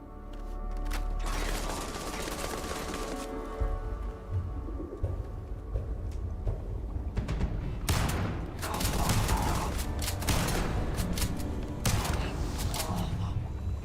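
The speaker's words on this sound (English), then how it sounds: "We're going old Earth shotgun." An old Earth shotgun firing in the video game Starfield, a run of loud, punchy blasts with mechanical clacks between shots, close and steady over the game's background sound.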